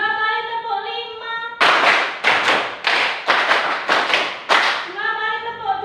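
Rhythmic hand clapping in a classroom: two quick sets of five claps each, sharp and close, with brief pauses between, set between stretches of a singing or speaking voice before and after.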